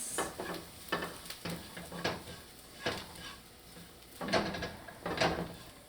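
Spices being stirred as they sauté in a pan for broccoli beef, with repeated scraping strokes over a soft sizzle, close and moderately loud, with no talk.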